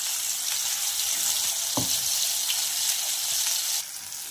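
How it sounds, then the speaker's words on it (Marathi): Gravy goes into hot oil tempered with cumin and a dry red chilli for mixed vegetable curry, raising a loud, steady close sizzle with a brief splash and clatter, then a slightly quieter hiss. "तर यामध्ये आपण ग्रेव्ही घालून घेऊया।"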